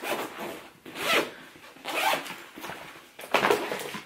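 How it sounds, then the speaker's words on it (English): The front zipper on a diaper bag is zipped in several close, raspy pulls, each a short burst with brief pauses between. "and then that front zipper"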